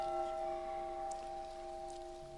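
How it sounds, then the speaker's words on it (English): The bell from the SS Ionic, a wartime troop ship, rung at a memorial service in the Hall of Memories at the War Memorial Museum in Auckland; a faint, steady ringing tone lingers on its own. "a service at the Hall of Memories at the War Memorial Museum opened with the ringing of the bell from the SS Ionic, a troop ship used during the war"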